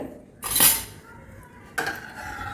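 Spoon stirring milk with vinegar or lemon added in a pan, two short metallic scrapes and clinks against the pan separated by a quiet pause, close and clear, no talking.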